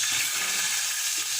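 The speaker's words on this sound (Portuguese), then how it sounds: "Meu alho tava tão quente que dourou logo o arroz" Rice frying in a pan with very hot garlic gives a loud, steady sizzle and crackle that fills the whole moment, close up, with no voices.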